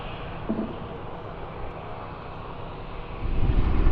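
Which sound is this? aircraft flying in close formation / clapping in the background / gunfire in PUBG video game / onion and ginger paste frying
aircraft flying in close formation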